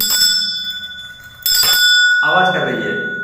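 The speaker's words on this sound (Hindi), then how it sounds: "जैसे ये घंटी है" A handheld bell sounds with bright, sustained metallic tones ringing out, fading and then struck again, with someone speaking over the ringing as it decays.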